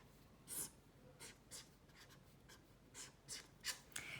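Pen strokes scratch across paper as a math formula is written by hand, a series of brief, faint scribbles spaced irregularly in a quiet room.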